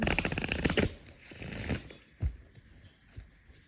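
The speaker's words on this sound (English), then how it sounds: "love the sound of cards shuffling" A deck of playing cards being riffle-shuffled up close, a fast fluttering burst followed by a few softer taps and shuffles.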